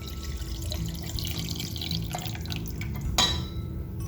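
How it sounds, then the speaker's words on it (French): Water is poured into a cup holding Monstera variegata cuttings, giving a soft, close, continuous trickle with a brief brighter splash near the end, and no voices. "Je vais juste remettre de l'eau comme ça."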